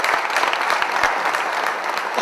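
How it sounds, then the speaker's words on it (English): A conference audience claps for volunteers at a closing talk, dense, even applause from many hands at moderate volume throughout the short stretch. "big round of applause for the volunteers"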